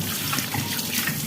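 Tap water pours over a new stone mortar and pestle being washed at a basin, a steady close splashing and trickling with no one talking.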